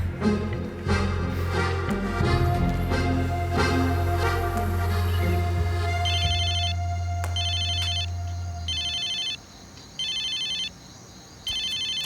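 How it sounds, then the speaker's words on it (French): A telephone rings in repeated evenly spaced electronic bursts, loud and close, first under a low humming background and then standing alone as the hum drops away. "Et ce téléphone qui n'arrête pas de sonner."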